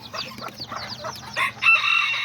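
A small white hen, a first-time mother with new chicks, clucks in a quick run of short calls that rises into louder, drawn-out squawks near the end, close by with no voices.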